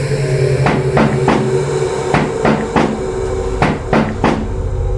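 Sharp knocks sound in uneven clusters, roughly nine raps of two or three quick hits each, close and loud over a steady low hum.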